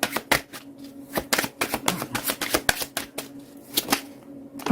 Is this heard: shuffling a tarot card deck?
yes